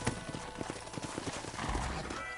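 Horse hooves clip-clop on hard ground with a brief whinny, several animals close by and moving at a walk, with steady background ambience, in the video game Red Dead Redemption.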